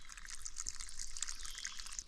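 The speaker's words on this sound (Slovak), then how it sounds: "Je zaujímavé, že ten prameň má aj vodu ešte." Water trickling from a mountain spring in the Little Carpathians, a faint, steady stream of light splashes and drips heard close up, with no talking.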